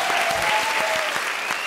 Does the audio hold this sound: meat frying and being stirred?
no